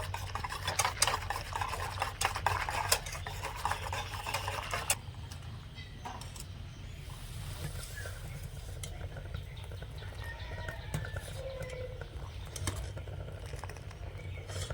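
Milk with sugar and milk powder gets stirred in a pot, soft scraping and swishing with a low steady hum underneath, louder in the first few seconds and then quieter and calmer, close and faint.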